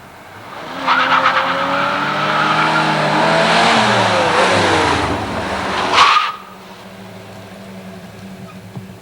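A car roars past at high revs, its engine pitch climbing then stumbling through a missed gear shift with a sharp burst before fading away.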